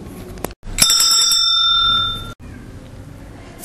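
A bell is struck once, ringing out with a clear, sustained metallic tone that fades after about a second and a half, played alone and fairly close as a sound for testing a child's hearing.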